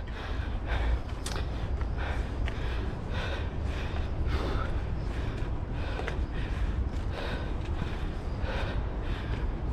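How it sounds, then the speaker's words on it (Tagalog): Someone out of breath from climbing a long flight of stairs pants heavily, with rapid, rhythmic breaths close to the microphone for the whole stretch, without speech. "Pasensya na guys, hingal na ako."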